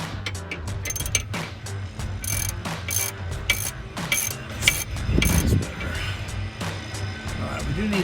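Ratcheting wrench tightening the bolt on an RSO heavy-duty adjustable front track bar for a Jeep Wrangler JL, a series of close, crisp metallic clicks and clunks in quick bursts, with background noise and some speech-like sound around them.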